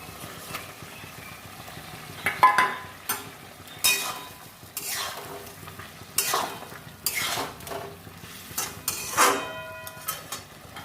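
Paneer cubes go into a hot pan for chilli paneer and sizzle, with repeated scraping stirs and clinks of a spatula against the pan coming in irregular bursts over a low frying hiss.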